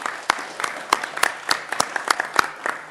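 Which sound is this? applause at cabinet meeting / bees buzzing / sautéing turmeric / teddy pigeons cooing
applause at cabinet meeting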